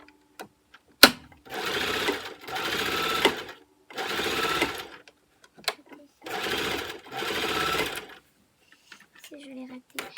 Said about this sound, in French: Je vais coudre pour que ça fasse beau.